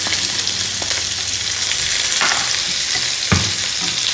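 Garlic, ginger and small green chilies fry in hot oil for a prawn roast, a loud steady sizzle close by with a few stirring scrapes, no voices.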